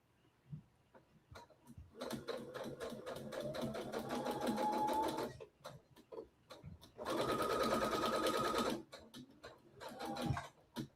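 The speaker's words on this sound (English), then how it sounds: "So we're just sewing our little pocket." A Brother SE700 sewing machine stitches a zipper headband pocket in two long steady runs with whirring, rapid needle clatter, separated by short pauses filled with clicks and handling.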